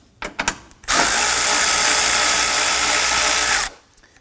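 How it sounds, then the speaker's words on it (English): A power driver with a socket loosens the 8mm bolts on the air intake of a 2003-2014 Volvo XC90: a few clicks and knocks, then a loud, steady whirring drive for nearly three seconds that stops abruptly, close and alone. "Using our socket and our driver, we're going to loosen and remove this."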